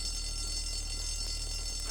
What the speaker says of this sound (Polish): Ale zajebisty budzik.